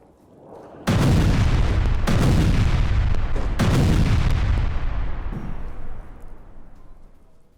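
Explosions from an Israeli attack in Gaza in news footage: three heavy booming blasts a second or so apart, each with a long rumbling tail, followed by a fading roar, loud and with no voices.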